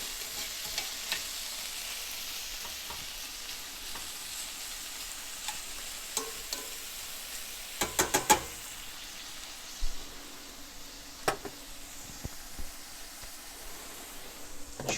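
Shallots and mince sizzle and fry in ghee in a pan, a steady close crackle broken by scattered scrapes and taps of a utensil stirring through the food.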